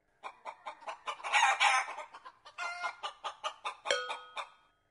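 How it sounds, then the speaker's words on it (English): Chickens clucking in a rapid series of short, close, loud calls with a few longer squawks, heard alone without talk. "Nine chickens."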